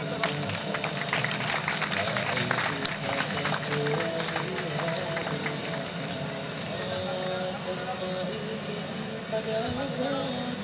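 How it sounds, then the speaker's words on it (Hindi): Scattered audience applause at a school show in a hall, a continuous mid-level clatter of many hands mixed with crowd murmur and room hum, steady throughout. "तालियां हो जाए"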